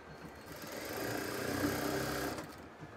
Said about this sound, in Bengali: এখানে 2 সুতা পরিমাণ ডাবিয়ে সেলাই করে নিচ্ছে।